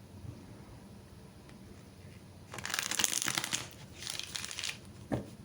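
Quiet at first, then bursts of papery riffling and rustling as tarot cards are shuffled close by, in two or three short runs.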